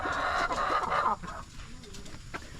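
Rhode Island hens in a coop cluck in a dense, close chorus that drops off after about a second, leaving scattered faint clucks and rustling.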